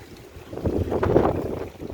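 Strong wind blows through a home garden, buffeting the microphone in a rough roar that swells in the middle and then eases, with no talk.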